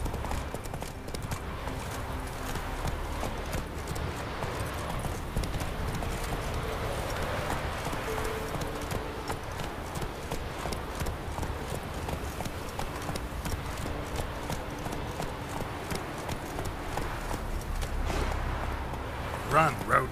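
A horse galloping in The Witcher 3: Wild Hunt, steady rhythmic hoofbeats clip-clopping throughout at close range, with a voice speaking over the running pace.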